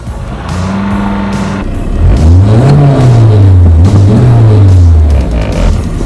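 A Peugeot 205 GTI 1.6 engine revs hard and close, with a lower idle first and then rising and falling blips of throttle that sound eager and snappy.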